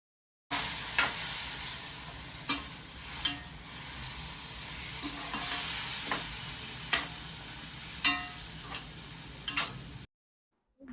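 A curry with salt and water added cooks in a pan, giving a steady low sizzle and simmer with regular ticking clicks of a spoon or lid, close up and with no one talking.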